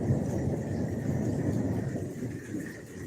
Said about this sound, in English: That is some crazy thunder that just passed over.